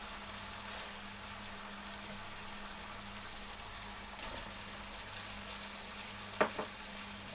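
Sliced bitter gourd (ampalaya) hits a hot frying pan and sets off a steady, close broadband sizzle of frying that holds evenly throughout, with a couple of brief sharp ticks.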